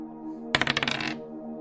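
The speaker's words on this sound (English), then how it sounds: "A simple roll on a d6 will tell us where Einar is" A six-sided die rolled onto a hard surface, one sharp impact followed by a quick run of rattling bounces that die away within about half a second, close and clear over faint background hum.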